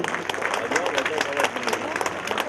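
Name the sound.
audience applause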